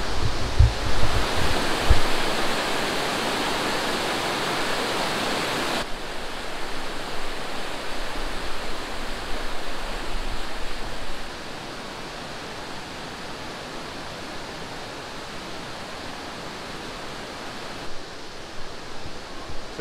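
Fast water rushes down the mountain through the Sigmund Thun Klamm gorge in Kaprun, Austria, a loud, unbroken roar that drops in level partway through and then carries on steadily.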